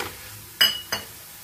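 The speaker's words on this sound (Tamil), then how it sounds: "மசாலா நல்லா ஃப்ரை ஆயிடுச்சு" Crab masala spices being fried and stirred in a pan: a soft background sizzle with two sharp metallic spoon scrapes against the pan, close by, with no talking.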